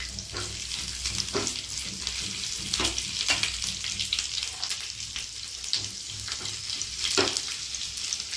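Whole spices such as green cardamom and Byadgi chillies sizzle with garlic and ginger in a hot pan, a steady dense frying hiss with occasional stirring scrapes, close and continuous, no talking.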